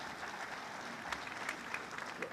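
Audience at the APEC CEO Summit 2013 breaks into steady, moderately distant clapping that holds evenly throughout, with some louder individual claps standing out.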